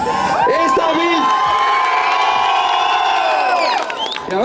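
A loud festival crowd at an outdoor grill event cheers, shouts and whoops for a fitness contestant, a dense sustained roar of many voices that fades slightly at the end.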